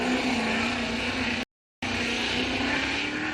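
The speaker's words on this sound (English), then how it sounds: "You hear the RPMs kind of bogging down" A Formula Drift Pro car at Atlanta qualifying roars loudly and continuously at close range, the engine note wavering as revs sag and bog; it drops out briefly to silence midway, then resumes just as strong.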